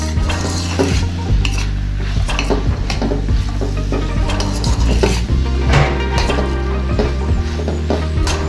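Chicken jalfrezi being stirred in a pan as spices are mixed in, with a steady sizzle of frying under repeated scraping and clinking of a spoon against the metal, close and continuous throughout.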